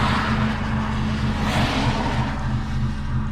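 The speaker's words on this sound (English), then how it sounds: "wait for these cars to go" Cars pass by on a road at night, a steady broadband engine and tyre rush swelling briefly midway, heard from beside a parked MK6 Ford Fiesta with straight pipe exhaust, no voices.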